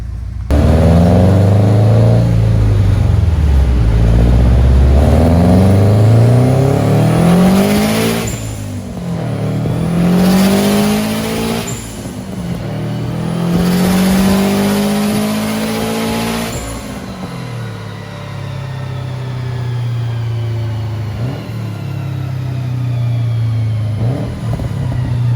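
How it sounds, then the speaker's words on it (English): A Subaru with a JDM EJ205 engine swap, running a roughly stage 2 setup, revs hard on a dyno in repeated loud climbing pulls with rising and falling pitch, then settles back to idle near the end. "next one on the dyno, we got a EJ205 JDM motor, pretty much stage 2 car with a little JDM swap"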